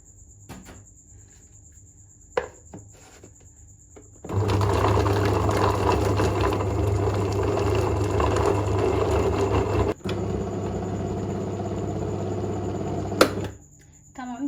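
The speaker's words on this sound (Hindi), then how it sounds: "अब हम इसको ब्लेंड करेंगे।" A kitchen blender whirs loudly for several seconds, blending bread slices with a potato and chicken mixture, then continues at a slightly different pitch before stopping.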